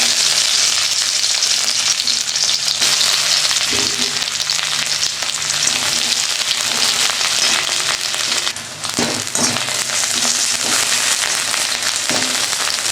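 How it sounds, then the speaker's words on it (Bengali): Chopped onion frying in hot oil in a kadai, a loud, steady sizzle with occasional spatters and stirring scrapes, continuous and close with no talk. "পেঁয়াজটা দিয়ে দিলাম"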